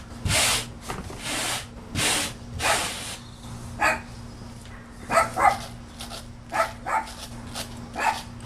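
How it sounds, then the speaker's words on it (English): A dog barks repeatedly near and loud over a steady low electrical hum, with scattered rubbing and handling noises between the bursts of barking, no speech. "Dog's barking because he saw the enemy cat next door."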